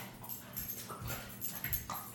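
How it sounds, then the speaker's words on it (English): Several dogs growl and fuss indoors in quiet, scattered bursts of low snarls and whimpering yips that rise and fall, with no one speaking. "if you've been hearing like growling and these guys going crazy, they have been"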